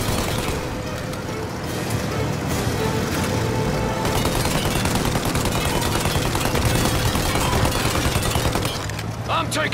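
Heavy gunfire rattles through an action scene in the video game Mafia Definitive Edition, with loud, dense, continuous shots over engine rumble and other game noise for nearly ten seconds.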